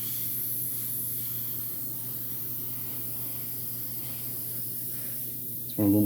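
An airbrush sprays transparent paint onto a figure kit with a steady, soft hiss that runs for several seconds over a low hum, ending in a brief louder burst.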